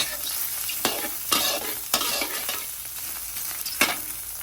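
Shiitake mushrooms frying in hot oil for a braised radish dish, a loud, close crackling sizzle broken by several sharp scraping strokes of a spatula across the pan.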